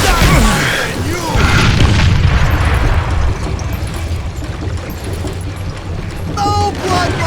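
A loud dynamite explosion in the Western shooter Call of Juarez: Gunslinger: a heavy boom opens, then rumbling blast noise and debris carry on for several seconds.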